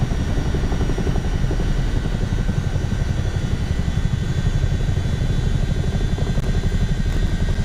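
Tandem-rotor Chinook helicopter in a flight simulator game, slowing into a hover, a loud, steady rotor throb and engine roar that holds constant throughout, with no voices.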